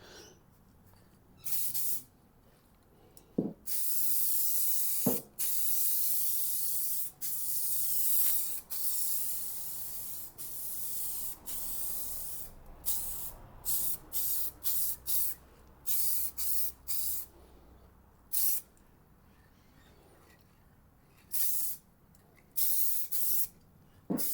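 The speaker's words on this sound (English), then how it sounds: "So now I'm going to continue lightly expanding that into the panel and then give it one final coat at the end to make it all uniform." Spray gun laying metallic base coat paint onto a car panel in repeated short hissing bursts, some a second or two and others longer sustained passes, close and fairly loud with quiet gaps between them.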